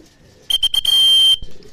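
A racing pigeon arriving at a training loft sets off a shrill electronic beeping from the timing clock: three short beeps and then one long tone, loud and close, with faint background noise around it.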